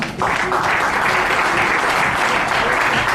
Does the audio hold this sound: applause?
yes